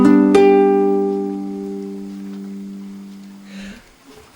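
One chord on a classical guitar, struck once with a quick strum and left to ring, fading gradually until a soft handling noise near the end.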